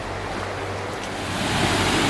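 Water of the Cascade River flows in a steady, loud broadband rush close by, a continuous roar that swells slightly toward the end with no voices.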